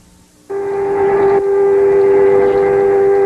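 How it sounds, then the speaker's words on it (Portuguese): Civil defense sirens sounding nationwide in Israel: a loud, steady wailing tone starts abruptly after half a second of near-silence and holds level, rising slightly in strength, with no voices. "As sirenes soaram às 10 da manhã."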